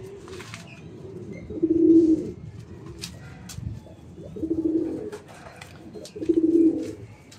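Racing pigeons in a loft cooing in three soft, low throaty bursts about two seconds apart, close by, with faint rustling and light background clatter between the calls.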